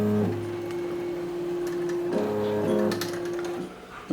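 Embroidery machine tracing a design outline, a steady mechanical hum with tonal motor whirs that change pitch as the frame moves, close and continuous with small clicks throughout.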